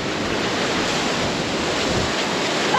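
Waves lapping on a Great Lakes shore, heard as a steady, loud broadband wash of surf that continues unbroken, with some wind buffeting the microphone throughout.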